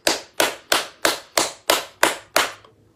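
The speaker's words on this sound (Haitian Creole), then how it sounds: "Bat bravo pou la jenese." Eight sharp, evenly spaced claps or slaps ring out close and loud in a steady rhythm, then stop; not a crowd's spread-out applause but single crisp strikes.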